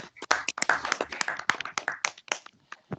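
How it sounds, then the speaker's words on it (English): An audience at a Toastmasters meeting claps in a short burst of applause, fairly close, with uneven, scattered hand claps tapering off. "Can I have rounds of applause"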